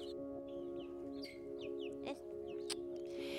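Chicken clucking outdoors, a run of short, quick clucks over a steady hum and low background noise, fairly quiet and at moderate distance.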